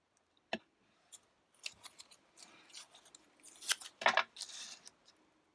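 Scissors snip through a paper card figure for a new baby card, giving a run of close, quiet, irregular cuts that grow slightly louder and busier toward the middle before trailing off, with no talking.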